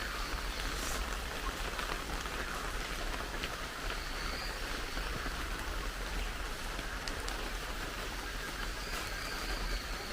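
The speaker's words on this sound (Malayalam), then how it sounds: "രാവിലെ മഴ പെയ്യാണ്" Steady morning rain falls at Kuttikkanam, an even, dense hiss of drops on surfaces that holds at the same level throughout, with no voices.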